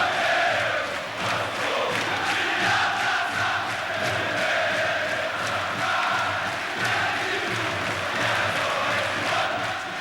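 Fluminense supporters singing a hymn together in the Maracanã stadium, a steady, dense crowd chorus that fills the whole space, loud and continuous with no pauses.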